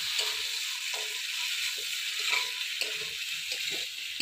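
Spices with ginger-chili paste fry in a pan for a katla fish curry, making a continuous bright sizzle with soft intermittent stirring scrapes.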